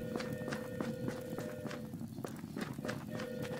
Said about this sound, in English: I heard them footsteps behind me